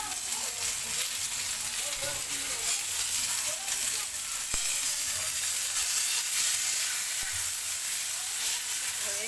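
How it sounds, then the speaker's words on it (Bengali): Fried eggplant pieces sizzle steadily in a pan on an induction cooktop, a constant bright hiss that runs unbroken throughout with a couple of faint clicks. "বেগুন ভাজাগুলোর মধ্যে এখন আমি ঝুলিয়ে দিয়ে দিচ্ছি"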